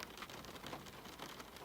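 Soft, steady rain patters continuously on surfaces outside a window, a faint, even hiss of drops with no voices.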